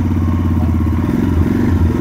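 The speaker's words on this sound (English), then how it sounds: "So, start it up, ignition on, give it a bit of choke." A cold 2019 Royal Enfield Himalayan 411cc single-cylinder motorcycle idles on choke at near-freezing temperature, its steady low thumping engine loud and close throughout, with no talk.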